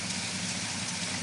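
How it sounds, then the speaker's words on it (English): A Ford F100 pickup engine idles while running on fuel vapor, giving a steady, close, continuous low rumble with no talking. "She is running on vapor."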